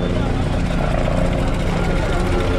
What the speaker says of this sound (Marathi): हेलिकॉप्टर पण चाललंय।